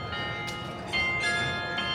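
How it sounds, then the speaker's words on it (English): Church bells ring before an amateur football derby, several distinct strikes with long bright ringing tones overlapping across the two seconds, heard at moderate distance over a low background murmur. "Church bells are going, signalling the fact that the FIERCEST derby is about to begin."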